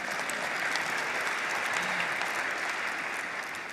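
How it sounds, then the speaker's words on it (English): A crowd at a political event with Representative Grace Meng claps steadily, a dense, even patter of many hands that holds at one level and sounds fairly distant. "you can clap for that."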